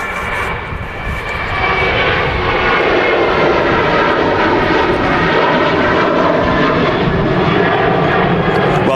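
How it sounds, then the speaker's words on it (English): An airliner on final approach at a windy Manchester Airport roars loudly and steadily as it passes close, growing in the first couple of seconds and then holding a broad, continuous engine drone. "Another aircraft on final."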